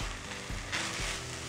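Soft, steady sizzling of rice frying in ghee, a quiet continuous crackle with faint stirring.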